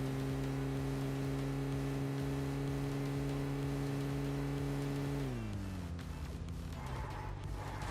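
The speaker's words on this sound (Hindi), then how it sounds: "साइड से भी एक गाड़ी की साउंड आती है" A vehicle engine drones steadily nearby in the PUBG video game, a low even hum that drops in pitch and fades slightly toward the end, heard alone without talk.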